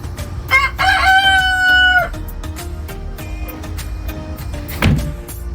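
In a backyard chicken coop a rooster crows once loud and close while hens cluck and shuffle around it, with a brief sharp knock near the end.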